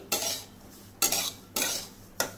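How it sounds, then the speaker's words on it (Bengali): Four evenly spaced scraping strokes of a spoon stirring and roasting dry semolina in a pan, each a short gritty swish, close and fairly quiet. "আমি যে সুজিটা ভাজা করছি"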